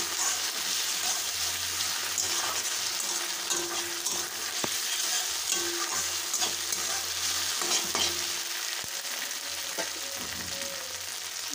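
Ginger and garlic paste frying in a pan for mutton curry, a dense, steady sizzle with ongoing stirring scrapes and occasional clacks of the spoon, close and continuous.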